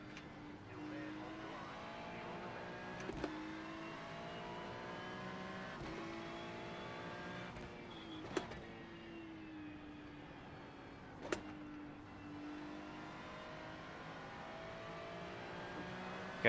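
A NASCAR Legends race car engine in Gran Turismo 3, droning at varying revs with rising and falling pitch as the race starts, with a few sharp clicks and knocks over the steady engine tone.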